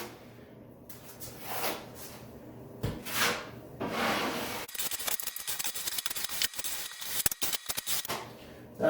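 A putty knife spreads skim coat over torn drywall paper in a series of close, raspy scraping strokes, with softer smoothing swipes followed by rapid, clicky drags.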